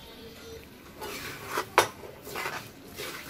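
Biryani rice being stirred in a pot, a few soft scraping and clinking strokes of a utensil against the pot, with one sharper knock near the middle.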